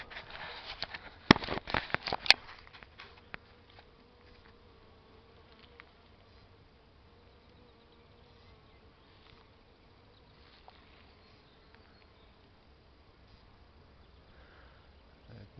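Honeybees buzz faintly but steadily around flowering damson blossoms in warm sunshine, a thin continuous hum, with a few sharp handling knocks near the start and no talking.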